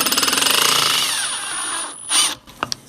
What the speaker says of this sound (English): So I'm through the metal, and now I'm cutting the threads.